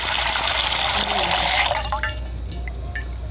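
Water poured into pitha batter to thin it, a close steady splashing gush that fades out midway, leaving a few faint clinks against a low background hum.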